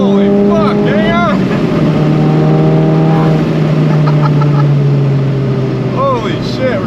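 An IS38-turbocharged Volkswagen Golf GTI does rolling burnouts on wet pavement in the rain, its engine revving loudly and close with rising and falling pitch as it shifts, while excited voices shout over it.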